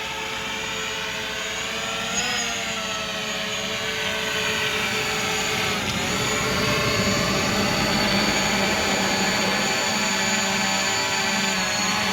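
A DJI Mavic Pro drone hovers and descends to land, its propellers giving a steady, loud, buzzing whine with layered harmonics that shift slightly in pitch as it comes down, with no talk.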